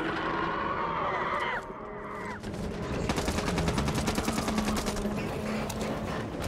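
Rapid gunfire in the zombie shooter Back 4 Blood, loud fast bursts of automatic shots that grow denser in the second half, mixed with game sounds and no voices.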